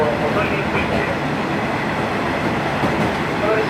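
Kazekko Soya No. 3, a four-car diesel excursion train, pulling out of Asahikawa station; a steady loud rumble and rattle of the moving railcars with faint clatter throughout.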